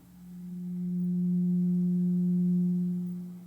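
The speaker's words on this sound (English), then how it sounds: "First, let's listen to what the 180 total degrees contained in the triangle sound like." A pure 180 Hz sine tone, steady and smooth, swelling in and fading out over about three seconds with nothing else heard.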